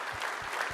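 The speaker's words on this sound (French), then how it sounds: "Applaudissements pour lui" Applause from an audience at the official presentation of Golden Globe Race skippers, a steady dense wash of clapping heard only briefly and moderately loud.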